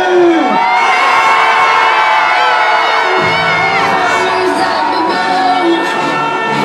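A large crowd at an anti-abortion march rally at the Trocadéro in Paris cheers, shouts and whoops loudly and continuously, with some higher children's voices mixed in.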